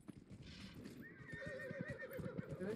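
Horse neighing and galloping in the fantasy role-playing game Dragon Age Inquisition: a long whinny rises over a steady, close clip-clop of hooves that keeps running throughout.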